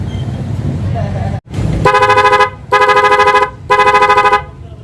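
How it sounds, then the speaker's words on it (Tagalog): A car horn, just repaired, blares three long loud honks close by, separated by short gaps, after a stretch of background noise and a brief dropout. "Tunog na siya mga kamagin. Lakas. Papalingon na yung businahan natin ito."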